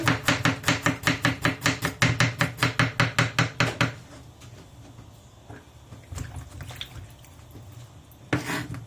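A knife chops garlic and seasoning on a board in a quick, even run of about twenty close, crisp knocks. The chopping stops and quieter handling and shuffling follow, then a last short burst of knocks.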